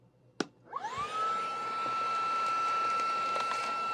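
Hyper Tough 20V brushless handheld vacuum clicks on and spins up to a steady, close, high whine, picking up heavier metal washers with faint rattles inside the airflow, and no one speaking.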